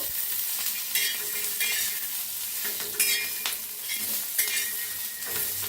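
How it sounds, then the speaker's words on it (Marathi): A spice mixture roasting in a little oil in a pan, stirred steadily, gives a continuous close sizzle with regular scraping strokes of the spoon against the pan. "आता ओतूया तेल, थोडस तेल ओतून बी मिक्स करून भाजूया।"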